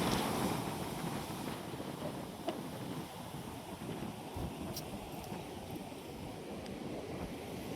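Big ocean waves at Daet beach roll in as a continuous, wide roar of surf mixed with wind buffeting the microphone, with no voices.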